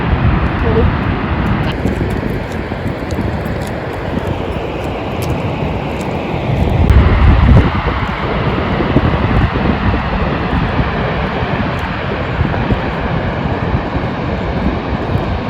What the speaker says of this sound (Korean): 여기 물모랜시 폭포에 왔는데 너무 예뻐요.